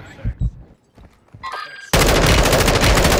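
Automatic gunfire in Warzone 2 starts partway through as a loud, dense, sustained burst of rapid shots, after a few quieter thumps and brief talk.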